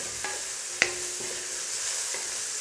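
Boiled potatoes sizzling faintly in a pan over a lowered gas flame for a bread pakoda recipe, with a few sharp utensil clinks and scrapes from stirring.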